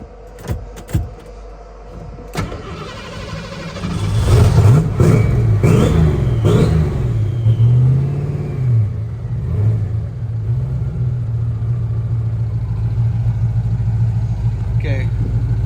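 A turbocharged Foxbody Mustang engine held on the trans brake, a few sharp clicks and clunks, then a loud close rev climbing and wavering before settling into a steady high drone, with keys jangling.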